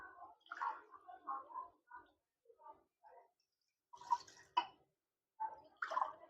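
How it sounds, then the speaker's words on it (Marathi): Two glasses of water poured into a pressure cooker sitting on a gas stove, heard as short splashing, gurgling bursts separated by pauses, with stronger splashes near the end. "दोन ग्लास पाणी टाकून घ्यायचं"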